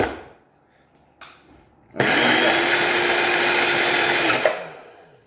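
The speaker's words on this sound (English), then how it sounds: "put it on your blender" A blender whirs loudly and steadily for a couple of seconds blending a chocolate milkshake, preceded by a few faint clicks and bumps, then cuts off abruptly.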